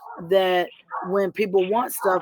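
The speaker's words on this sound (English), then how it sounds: "I know y'all hear that dog in the background" A neighbor's dog barks and yips in the background, several short tonal barks in quick succession mixed in with a person talking.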